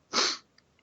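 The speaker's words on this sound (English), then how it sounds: "Sorry, I was about to sneeze." One short, sharp sneeze bursts out close by, followed by a couple of faint sniffs in near silence.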